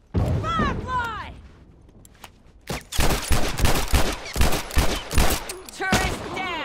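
Rapid turret gunfire in The Last of Us Remastered, dense close bursts after shouted voices, with a lull before the heavy firing resumes.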